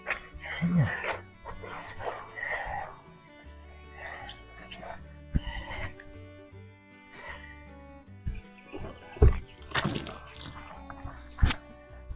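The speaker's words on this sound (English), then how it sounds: "All the cicadas going on. Cicadas are noisy." Cicadas buzz steadily in a shrill, continuous drone, with a person talking nearby and a few sharp knocks and thumps over it.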